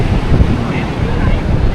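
Strong wind roars and buffets the microphone by the sea at Ganpatipule on the Konkan coast after rain, a dense, steady rush with surf beneath it.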